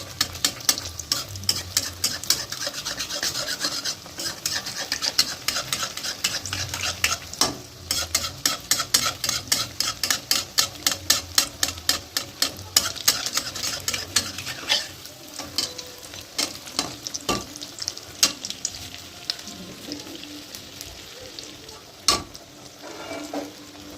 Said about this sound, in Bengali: 2 সাইড চারটা করে ভাজবে, তেলটা যতটা পারবে দেবে।